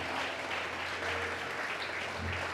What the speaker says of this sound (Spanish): Brinden un fuerte aplauso al Señor,